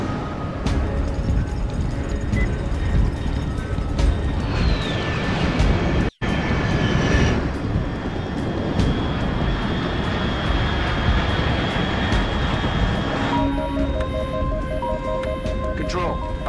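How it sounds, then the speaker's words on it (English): Aircraft engine roar in the video game Metal Gear Solid Delta, a loud continuous drone with a brief cut and tonal changes, as voices speak over it. "Control, unidentified aircraft detected."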